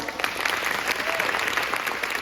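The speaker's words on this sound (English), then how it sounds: "So one more round of applause." Audience applause at the close of a nutrition talk, a steady dense clapping that fills the whole moment without pause, loud and close.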